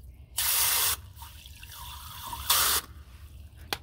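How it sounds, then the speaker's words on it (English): Water sprays into a container in two short bursts, a loud hissing gush for about half a second each, separated by quiet dripping, close up with no voices. "I'm going to put some water in here."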